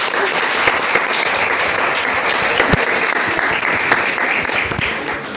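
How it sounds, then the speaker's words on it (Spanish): An audience at a panel discussion on social media in politics breaks into loud, sustained applause for the four panelists, dense clapping with scattered sharper claps standing out, fading slightly at the end. "Ahora les pido a ustedes un aplauso para los 4 panelistas."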